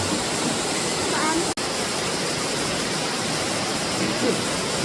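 Spring water flowing near the Hantangang river in Pocheon, Korea, a loud, dense and continuous rushing hiss close to the microphone, unbroken except for one brief dropout.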